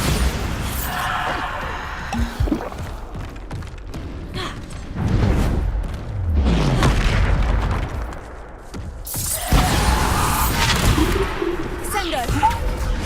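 Bombarda blasting spell from the Hogwarts Legacy video game, with several loud booming impacts and crashes that repeat amid a busy battle; a voice shouts spell names over the noise.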